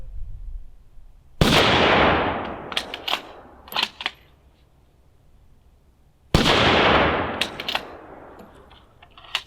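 Two loud, sharp .308 rifle shots fired through a Dead Air Sandman K suppressor from a 16-inch barrel, each a heavy crack with a long decaying tail, several seconds apart, with faint clicks and rattles between; no speech.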